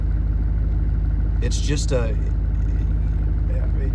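A diesel truck engine idles with a steady low rumble throughout, close up, while a voice briefly speaks over it.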